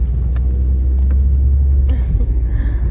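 Car driving on a road near Orlando, heard from inside the cabin as a steady loud low engine and road rumble with faint background movement and no one talking.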